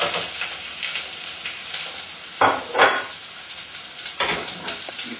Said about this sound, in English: pop the onions into the melted butter